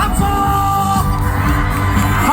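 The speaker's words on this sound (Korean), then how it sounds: "오늘 이곳에 와주신 여러분들 다같이 다시 한번 박수와 함성" An outdoor daily concert crowd at the Boseong green tea expo cheers, whoops and claps together, a loud, continuous roar of voices and applause with some music tones underneath.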